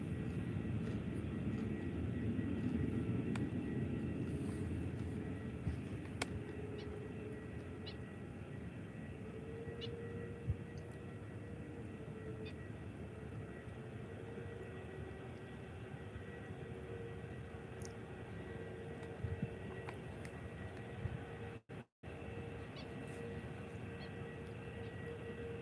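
Airplane taking off or landing at Faro Airport, a steady, broad jet engine roar that holds for the whole stretch, heard from a distance with a few faint clicks.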